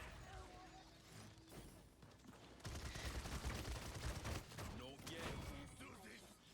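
Two pistols fire in the online shooter Paladins as gameplay plays out in a rapid, steady stream of clattering shots. A quiet voice talks underneath, and the gunfire grows denser and louder partway through.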